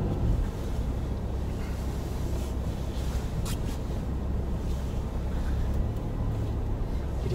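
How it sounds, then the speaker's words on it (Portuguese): Car creeping slowly along a snow-covered road, a steady low engine rumble with broadband wind and tire noise throughout, close and continuous, no talking. "Dirigindo na neve."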